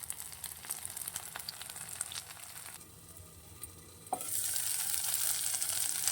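Paneer cubes frying directly on a hot tawa for paneer tikka, a continuous crackling sizzle that eases briefly midway, then surges louder and brighter with an intense hiss.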